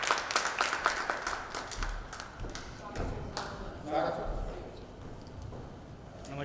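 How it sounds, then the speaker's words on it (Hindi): An audience claps at a Holi poetry gathering of nationalist poets, scattered bursts of applause with thumps mixed under ongoing speech. "एक बार जोरदार तालियां बजाकर हम मनमौजी"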